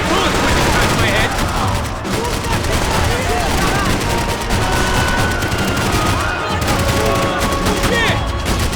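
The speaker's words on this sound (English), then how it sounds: "I can't concentrate with bullets whizzing past my head." Heavy sustained gunfire from a firefight in Max Payne 3, loud and dense throughout with overlapping bursts and no break.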